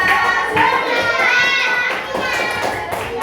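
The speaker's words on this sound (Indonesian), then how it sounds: "Beri tepuk tangan buat siapa?" Children in a fourth-grade classroom clap for a classmate named Pia, scattered light claps mixed with children's chatter and shouting voices, close and lively throughout.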